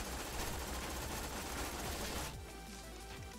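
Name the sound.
rapid gunfire from a weapon in a video game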